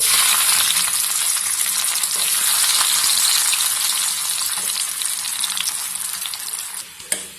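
Onions frying in hot oil in a kadai over a gas flame, a loud, steady, dense sizzle that holds continuously and fades slightly toward the end, with a brief clatter near the close.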